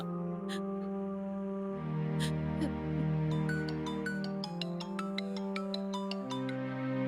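A phone ringtone plays while a mother calls Vishwa, a loud melodic electronic tune of repeated sustained tones with bright chime accents, continuous and close.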